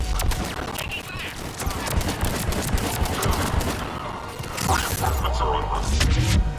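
Heavy gunfire crackles through a Mass Effect 3 battle, rapid automatic bursts and thuds running continuously with a deeper boom near the end, while voices talk over the shooting.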